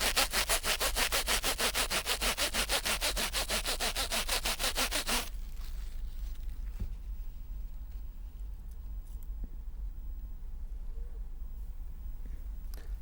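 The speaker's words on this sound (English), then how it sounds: "I am going to rub this comb with this plastic sheet" A plastic sheet is rubbed quickly back and forth against a comb. The rubbing makes a fast, regular scratchy rasp for about five seconds and then stops, leaving faint room noise.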